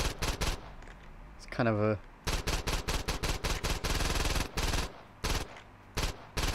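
Saints Row 2 video game gunfire: loud, rapid bursts of automatic shots in repeated volleys with short gaps, and a person talking briefly between them.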